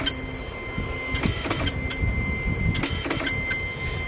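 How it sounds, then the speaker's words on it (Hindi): A golden embossing printer runs a job with rhythmic mechanical clatter, sharp repeated clicks and thumps over a steady motor whine, close and fairly loud. "ये देखिए प्रिंटिंग हो रही है"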